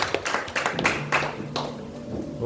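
Church congregation clapping hands during a worship service, a busy run of claps across the whole moment with a sustained tone and voices mixed underneath.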